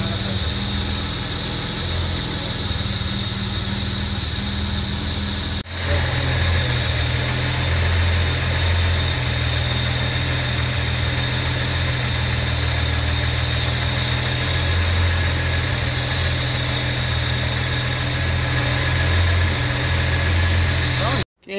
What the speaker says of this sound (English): Okay, it's running pretty good. Just adjusting the mixture, getting the RPM right.